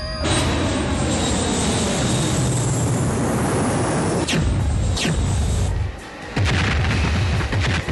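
A space battle with a roaring engine wash, heavy booming blasts and whooshing streaks of fire, loud and dense throughout, with a brief drop near the end.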